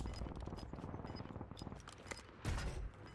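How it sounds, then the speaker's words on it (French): Rapid bursts of gunfire rattle through a Warzone match, with several volleys close together. There is a louder, heavier burst near the end, and no voices are heard. "Les tirs."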